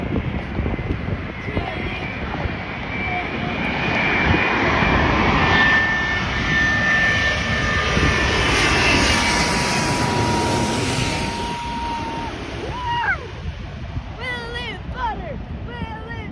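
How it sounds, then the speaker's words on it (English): Boeing Dreamliner jet airliner roaring past at LAX, a loud broad engine rumble swelling and fading over about sixteen seconds, with wind buffeting the microphone and people talking nearby. "Dreamliner."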